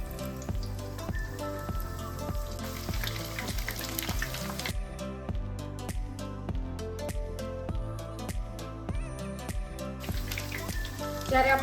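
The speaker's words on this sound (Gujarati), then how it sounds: "મુઠિયા છે ને ક્રિસ્પી અને બ્રાઉન થાય ને ત્યાં સુધી આપણે તરી લઈશું" Muthiya dumplings for Kathiyawadi undhiyu deep-fry in hot oil, a steady, dense crackling sizzle with rapid popping bubbles, close and loud throughout.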